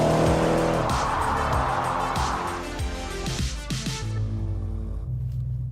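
A 1001 BHP MTM-tuned Audi RS6 launches hard from a standstill, its engine roaring loud and close with a brief tire squeal, then revs rise and drop through quick gear changes as it pulls away.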